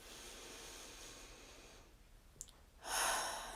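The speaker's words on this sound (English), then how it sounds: "go ahead and take a big deep breath in" A slow breath drawn in through the nose is followed by a soft, airy exhale that swells louder near the end, close and quiet during a guided meditation.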